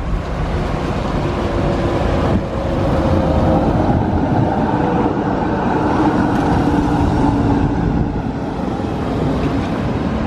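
A tram rolling along a Budapest street, a loud, steady rumble of wheels and motor with broad city noise around it, close and continuous throughout.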